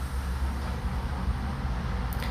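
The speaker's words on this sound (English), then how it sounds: "you may be able to hear some cars in the background" Low, steady rumble of road traffic in the distance, cars droning past continuously without any talking.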